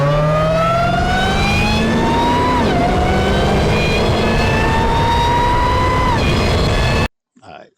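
Modified engine of a Gauntlet car in GTA5, swapped for real engine audio, revving loudly through rising gear pulls with a brief dip near three seconds, then cutting out abruptly before a short quiet tail.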